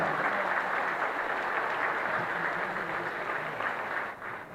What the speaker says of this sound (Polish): Jeszcze raz wielkie, wielkie brawa.